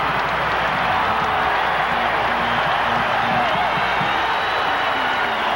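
A 1997-98 Missouri Tigers college basketball arena crowd roars steadily after a dunk, a dense and unbroken wall of cheering and applause with a commentator's voice faintly audible beneath it.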